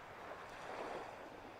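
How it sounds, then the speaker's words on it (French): Small, calm sea waves wash steadily in a soft, continuous hiss, faint and unbroken, with no voices. "le bruit des vagues, de la mer"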